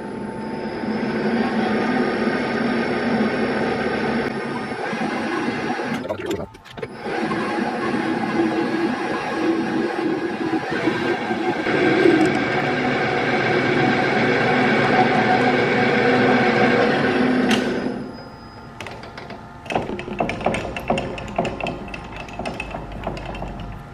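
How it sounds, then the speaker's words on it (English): A sodium-filled valve from a Ferrari 308 quattrovalvole is cut open with a power tool, producing a loud, continuous grinding whine that dips briefly and then runs steadily before stopping, followed by quieter clatter. "All right, so now I'm going to cut open this valve."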